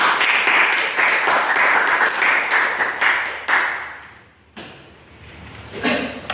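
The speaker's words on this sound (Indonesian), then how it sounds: "kita beri aplaus untuk kita semua" Loud, steady applause from a classroom group, clapping sustained for several seconds before tapering off, followed by a thud and faint room noise.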